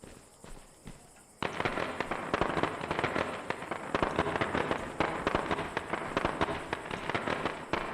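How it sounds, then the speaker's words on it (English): Firecrackers thrown in a zombie survival video game go off in a rapid crackling string of pops. The burst starts suddenly after a short quiet stretch and keeps popping densely at moderate volume to the end. "I'll toss some firecrackers over there"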